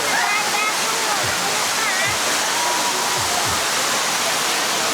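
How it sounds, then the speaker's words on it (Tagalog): Strong rushing current of a waterfall roars steadily and loudly the whole time, a dense, unbroken wash of water noise up close. "Lakas ng agos ng tubig"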